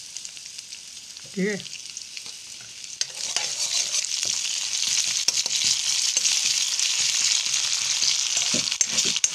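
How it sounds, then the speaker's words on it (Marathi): Ginger garlic paste frying in oil for a Malvani raw mango curry, a bright, steady sizzle that swells after a few seconds, with stirring scrapes throughout and a man's brief spoken words near the start. "अद्रक लसूण पेस्ट मी घालतोय"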